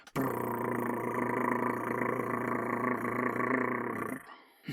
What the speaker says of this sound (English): Might want to take this dirigible in. It sounds like a really happy cat.